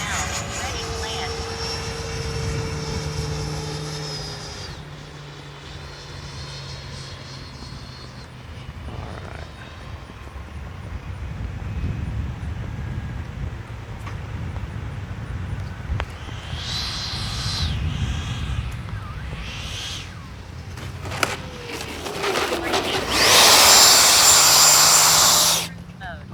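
A Freewing 90mm Eurofighter RC jet comes in to land, its ducted-fan whine rising and falling at middle distance, then a louder close rush of sound near the end, with a voice talking over it.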